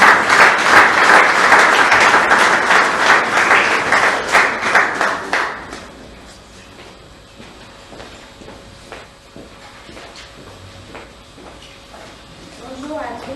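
A conference audience of Christians in Lomé, Togo, bursts into loud, dense applause for several seconds before it thins into a few scattered claps and a quiet room.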